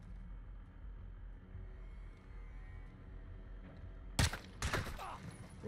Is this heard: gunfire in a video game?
yes